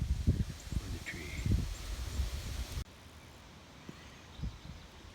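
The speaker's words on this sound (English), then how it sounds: "Well, the wind picked up." Wind gusts rustle and buffet the microphone outdoors by a barn and cattle gates on a breezy, sunny day, steady and fairly soft with a few faint knocks.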